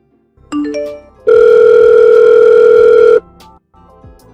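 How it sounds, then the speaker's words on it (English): A telephone rings loudly and close by in one steady two-second burst, preceded by a short rising electronic tone and followed by quiet background. "Why don't you pick up your phone? I called you so many times, but you never answer."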